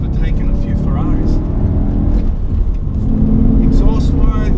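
A BMW M3 V8 fitted with a sports exhaust growls steadily up close, its deep engine note running loud beneath a voice talking over it.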